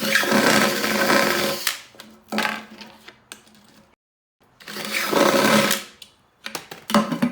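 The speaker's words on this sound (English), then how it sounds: "And then I'm just going to go through those same holes with the thicker bit and try to clean it out a little bit." An electric drill fitted with a thicker bit bores through the holes of a metal paint can in two loud whirring bursts, separated by a short silence, followed by brief clatters.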